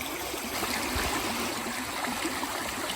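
A creek flowing in the woods, a steady close-up rush and trickle of water running continuously without a break.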